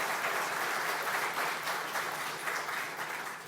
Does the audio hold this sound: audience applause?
yes